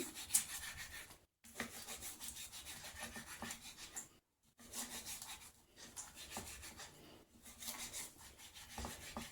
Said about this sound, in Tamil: பரோட்டாவை இப்படி கட் பண்ணி எடுத்தாச்சு